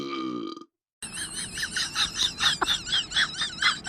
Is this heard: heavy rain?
no